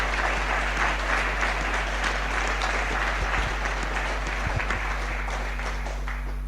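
A congregation claps for the Lord in a church service, a steady dense wash of applause that holds evenly throughout.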